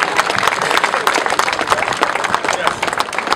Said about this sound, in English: Please give him a wonderful round of applause.